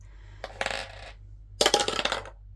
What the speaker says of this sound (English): it comes with this dice